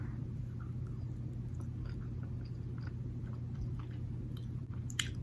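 Someone chews Airheads sour candy strips close to the mic, giving a steady soft chewing with small sticky clicks and smacks and no talk.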